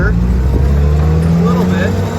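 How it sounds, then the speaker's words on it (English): An old Jeep engine drives on the road with a steady low rumble and slight unevenness, heard from inside the vehicle, with voices faintly underneath. "we're going to get on the road here, and you're going to hear it stutter"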